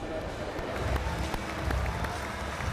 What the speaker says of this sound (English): You'd never have all of these staying behind to clap a win at a friendly, would you?